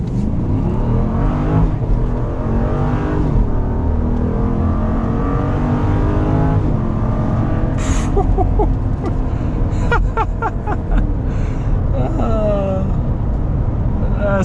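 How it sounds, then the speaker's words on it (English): A 2022 Jeep Grand Wagoneer with a 6.4-litre engine accelerates hard, its loud, close engine note rising through several upshifts in repeated sweeping climbs, with someone talking over it throughout. "but the engine grunt, you can hear the engine grunt from up front here"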